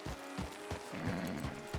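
Galloping horse hooves in Red Dead Redemption 2, a quick series of muffled thumps under a dense wash of game ambience, fairly close but not loud.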